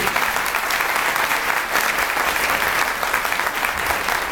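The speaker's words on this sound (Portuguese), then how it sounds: "Palmas para ela, gente." A theatre audience applauds steadily at a Belo Horizonte dance festival, a dense, sustained wash of clapping that stays loud and even throughout, with no voices rising above it.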